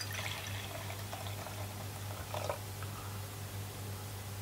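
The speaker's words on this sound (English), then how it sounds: "I'll throw in some hot water." Hot water poured into a tray to mix a salt solution, heard as a soft, quiet splashing trickle over a steady low hum, with no talking.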